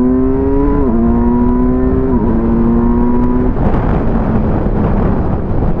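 A Kawasaki Versys 1000 SE motorcycle with a 120-horsepower engine pulls away under hard acceleration, its loud, close engine tone climbing and dropping with each gear change before settling into a steady roar.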